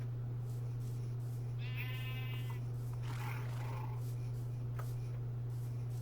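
A sheep in the video game Minecraft, Sevtech modpack, bleats once in a short wavering call over a constant low electrical hum, followed by faint rustling and clicks.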